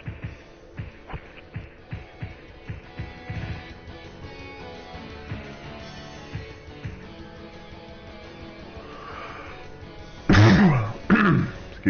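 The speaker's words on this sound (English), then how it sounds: "I apologize for any like coughing that happens here and there." Repeated coughs and throat clearing from a man on a headset microphone, with brief bursts spread across the recording and a louder, harsher cluster near the end.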